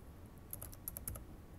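Computer keyboard keystrokes in a quiet room, a quick cluster of about seven or eight crisp clicks in the middle, close and fairly soft, with no talking.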